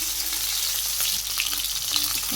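Chopped onion and green chili fry and get stirred in a pan in a Bangladeshi village kitchen, giving a loud, continuous sizzle with faint scraping underneath.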